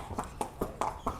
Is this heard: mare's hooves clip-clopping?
yes